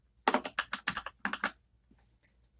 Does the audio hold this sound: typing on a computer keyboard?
yes